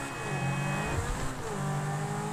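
A car engine in Grand Theft Auto V drives steadily throughout, with a sustained engine drone, rising and falling tones as it revs, and a continuous, fairly loud sound without talk.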